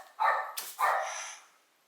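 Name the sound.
dog barking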